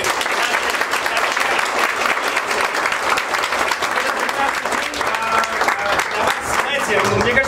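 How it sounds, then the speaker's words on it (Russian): Guests clap together at a congratulatory gathering, a dense, steady burst of applause filling the whole stretch, close and loud, with voices mixed in underneath. "давайте еще раз, если не сложно, громко-громко похлопаем"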